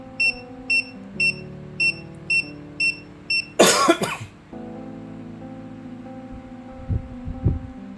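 A steady series of short electronic beeps from an XPrinter XP-Q80W receipt printer repeats at an even pace, interrupted by a loud burst of noise, then a low hum continues.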